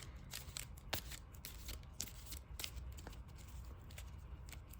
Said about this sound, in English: Put those back, shuffle it up again.